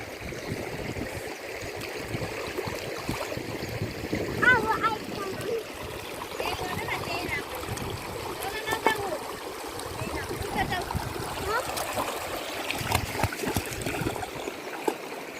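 The Sardu Khola stream flows with a soft, continuous babble and scattered small splashes, fairly quiet, while voices are heard intermittently over the water.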